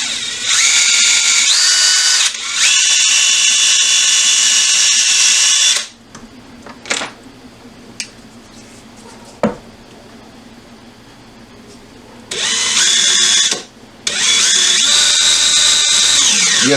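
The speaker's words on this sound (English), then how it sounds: "I'm going to drill into the tops of these" A power drill whirs loudly in several long bursts, drilling into the tops of plastic skeleton bones, stopping for a quieter stretch with a few clicks and taps before drilling resumes.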